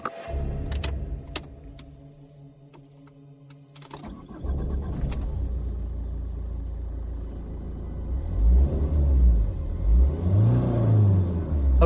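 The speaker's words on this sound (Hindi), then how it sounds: "अरे ये जंगल है, कोई जानवर होगा, इंसान नहीं। मैं गाड़ी बैक करता हूं।" A car in a forest starts up and reverses, its engine rumbling low and steady, then rising and surging near the end, with clicks and mechanical sounds at the start and no talking.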